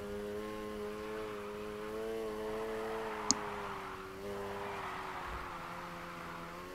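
Car in Need for Speed Heat revving steadily under full throttle, its engine drone holding a sustained pitch through a drift, fairly quiet with no talk.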